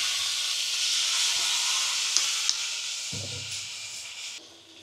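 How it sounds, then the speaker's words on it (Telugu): Manchurian balls tossed in a hot pan with soy sauce give a steady, close broadband sizzle with a couple of sharp clinks, easing slightly and softening toward the end. "ఇలా రోస్ట్ అయిన దీంట్లో మనం ముందుగా ఫ్రై చేసి పెట్టుకున్న మంచూరియన్ బాల్స్ వేసి కలుపుకుందాం"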